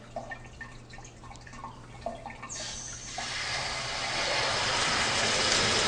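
Water starts rushing through a fire sprinkler riser's two-inch main drain, a steady hiss that swells from a faint trickle into a loud, continuous broadband flow after a few seconds.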